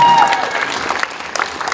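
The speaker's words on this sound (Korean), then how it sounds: "다시 한번 큰 박수 부탁드립니다." Audience at an outdoor community culture festival in Mapo, Seoul breaks into sustained applause, a dense, steady patter of many hands clapping close by with crowd noise underneath.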